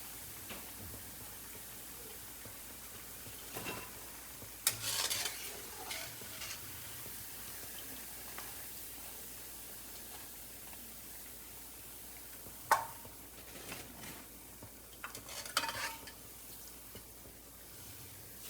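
Mung bean and spinach pakoras fry in oil with a soft, steady sizzle, broken by a few louder stirring clatters and scrapes; fairly quiet and without talk.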